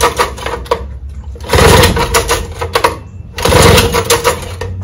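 A 1954 Gale Buccaneer 5 HP outboard engine with a carburetor problem is pulled over, sputtering into two loud, rough bursts of running separated by a brief lull.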